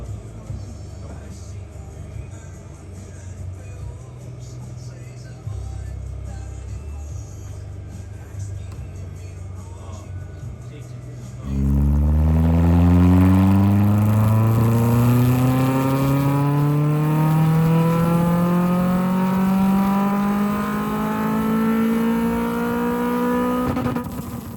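A race-prepared car on a dyno idles roughly with background noise, then its engine roars into a long, loud pull, pitch climbing smoothly through the revs for over ten seconds; talk may be faintly present.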